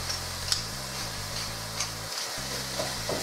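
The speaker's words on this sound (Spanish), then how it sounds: "Esperamos a que la carne se vaya quitando los rojitos, se vaya cocinando" Ground beef frying in a pan for bolognese sauce, a steady soft sizzle running throughout at low, even level with a faint low hum beneath and occasional tiny ticks.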